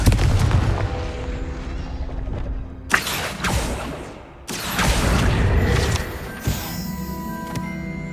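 A Confringo fire spell in Hogwarts Legacy lands as loud explosive blasts, two sharp booming impacts a few seconds apart over a steady rumbling game background.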